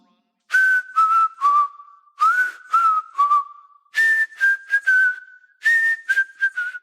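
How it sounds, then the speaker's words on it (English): A character in the Deadlock video game whistles a short melodic tune, phrases of clear bright notes separated by brief pauses, close and alone. "Want me to whistle us a little tune while we run?"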